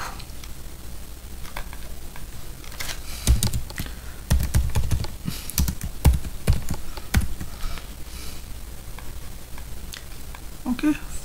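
A computer keyboard clicks in irregular clusters of light taps while values are entered in plotting software, close and fairly quiet over a steady background hiss.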